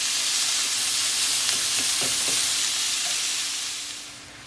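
Ground beef frying in a pan for hamburger helper, a loud constant hissing sizzle with a few faint scrapes as the meat is broken apart, fading slightly at the end.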